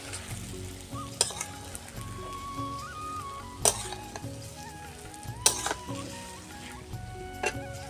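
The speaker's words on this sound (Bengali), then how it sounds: "এখন আমি পটল আলুটা তুলে দেবো। ভালোভাবে নাড়ি চাড়ি মশলাটার সাথে মাখিয়ে নেব।" Pointed gourd and potatoes sizzling in hot spice paste, stirred with a utensil that scrapes and clinks against the pan several times, a steady frying hiss throughout.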